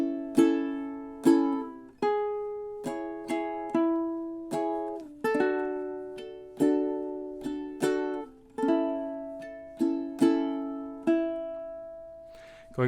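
Ukulele strumming measures 11 to 14 of a song: roughly twenty bright chord strums and plucks in a steady, even rhythm, each ringing and fading, played close with no voice.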